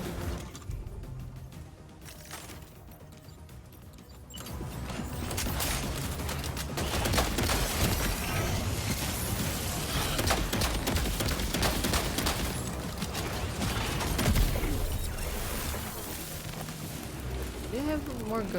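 Shotgun blasts and other gunfire from the video game Death Stranding 2 crack in dense, repeated bursts over a loud chaotic din, with a voice talking in places.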